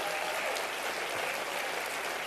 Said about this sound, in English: please give a round of applause as I say these names